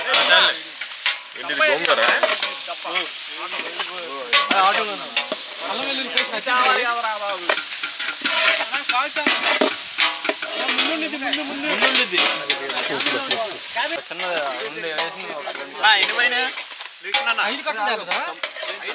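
Continuous sizzling and frying of biryani in a pot with repeated scraping and stirring, loud and close, a faint voice now and then.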